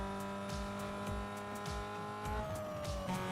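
Car engines and tires in the racing game Need For Speed Most Wanted, a steady engine drone with rising revs and short tire-squeal bursts, fairly loud and continuous with no talking.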